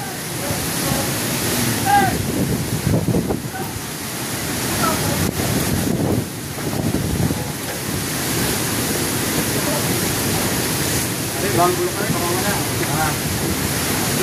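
Strong wind roars steadily at the shore, buffeting the microphone with a broad rushing noise and gusts, while a voice speaks faintly underneath.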